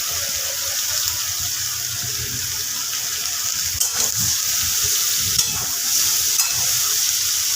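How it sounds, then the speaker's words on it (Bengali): Potatoes and eggplant frying in a pan after tempering with five-spice and a dried chili, a steady close sizzle with occasional scraping and clattering stirs of the spatula. "আলু বেগুনগুলোকে একটু ভাজা ভাজা করে নেব"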